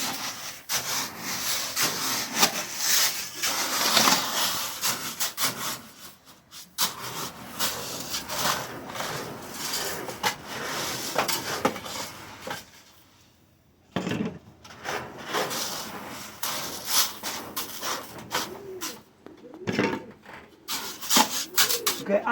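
Pigeon grit mixed by hand, a dry gritty rubbing and scraping that rustles on and off in bursts, with a brief quiet pause partway through.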